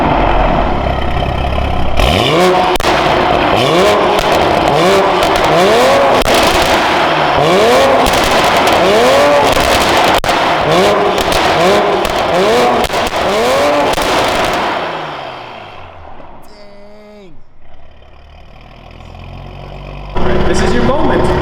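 A Toyota Supra with an open exhaust revs hard and loudly again and again in rising, rhythmic bursts before the engine note drops to a much quieter, muffled idle.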